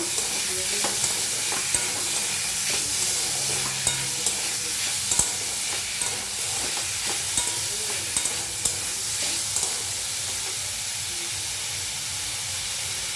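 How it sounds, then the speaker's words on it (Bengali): Chicken fries in a pan with a steady close sizzle and hiss, and faint scrapes and clicks of stirring run throughout with no talking. "এবার আমি চিকেনটাকে দিয়ে দিলাম। চিকেনটাকে একটু ভেজে নেব।"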